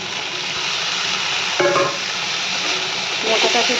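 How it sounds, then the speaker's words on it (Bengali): Banana flower is tipped into a pan of fried spice mix with salt and stirred, giving a steady sizzle with a couple of brief scraping stirs of the spatula and no talk. "মশলা কষা হয়ে গেছে, এবারে দিয়ে দিচ্ছি আমি মোচাটাকে"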